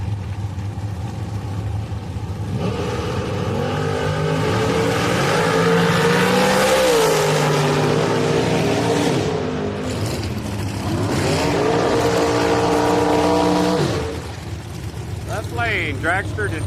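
Drag racing cars launching down the strip at Houston Raceway Park during a bracket race, loud engines roaring and revving as they pull away, with a commentator talking over the noise.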